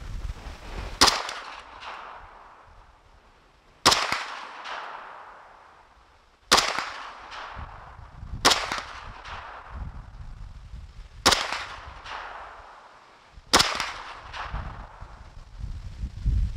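Six sharp rifle shots from an H&K 94 fired at targets outdoors on a windy day, spaced a few seconds apart, each a loud crack with a decaying echo and wind rumble between.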